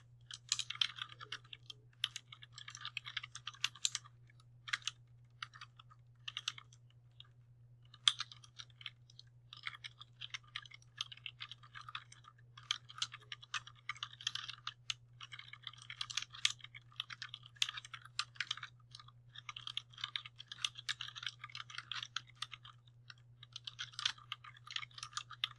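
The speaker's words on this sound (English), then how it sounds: "I'm going to type the text that is listed there." Computer keyboard typing text in PowerPoint for the web, with quiet, continuous clicking keystrokes in irregular bursts over a low steady hum and no voices.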